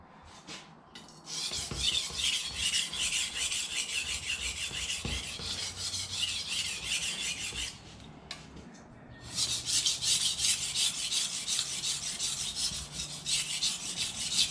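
A kitchen knife is sharpened dry on the coarse side of a Sharpal dual-grit diamond stone, giving a steady close-up rasping scrape in long continuous passes with a brief pause midway.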